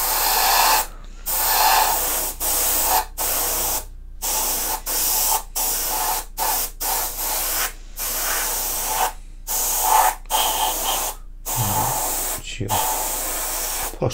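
Matte varnish sprayed from a can onto a painted Warhammer 40K orc miniature in a series of short, loud aerosol hisses with brief pauses between bursts, close by.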